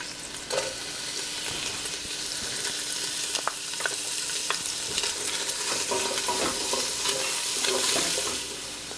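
Onion frying in rendered fat for pasta e fagioli soup, a bright steady sizzle punctuated by repeated scrapes and clicks of a utensil stirring the pan.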